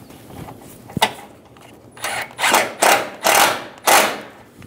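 Power tool driving the front bolts while a headlight is fitted on a 2010-2014 Subaru Outback: one sharp click, then four or five short whirring bursts close by, with pauses between them.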